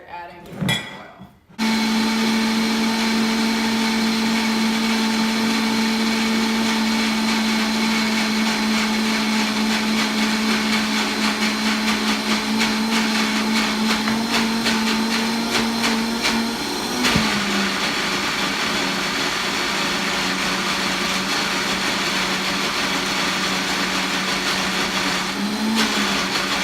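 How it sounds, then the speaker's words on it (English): A blender runs steadily on homemade dressing ingredients, a loud continuous motor whir that holds for most of the stretch, with a brief pitch shift midway as the load changes. "Give that a blend again."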